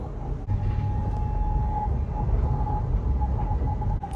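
Stansted Express train running on rails through Cheshunt, a steady low rumble with wheel noise and a faint tonal whine, heard from inside the carriage with no talk.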